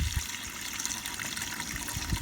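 Water pours and gushes into a container meant as a drinking trough for sheep, a short, soft, steady filling sound with no talk.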